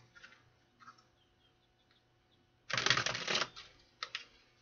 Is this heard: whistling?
no